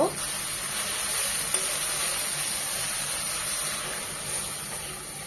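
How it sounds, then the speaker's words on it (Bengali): A paste of turmeric, chili and cumin powder mixed with a little water sautés in hot oil, giving a steady close hiss and sizzle with faint stirring, loudest at the very start. "মশলাটাকে খুব ভালোভাবে কষিয়ে নেব"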